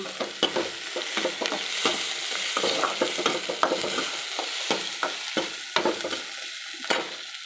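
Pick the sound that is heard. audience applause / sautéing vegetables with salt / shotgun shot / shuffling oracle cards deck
sautéing vegetables with salt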